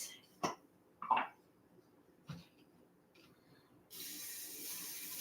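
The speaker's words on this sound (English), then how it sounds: "Now I'm going to put a little bit more cooking spray on this." Cooking spray hisses onto a pan in a kitchen: a steady, close spray sound starting near the end, after a few short coughs and throat-clearing noises in quiet surroundings.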